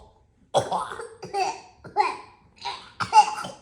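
Children pretend to cough up a fur ball, several voices giving a series of about five short, hacking, gagging coughs, bursts spaced roughly half a second apart with giggly edges, close and clear.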